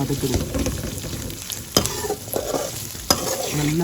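Chopped beans with tomato stir-fry in a pan for semiya kichadi, giving a steady sizzle broken by scraping stirs and a couple of sharp utensil knocks against the pan.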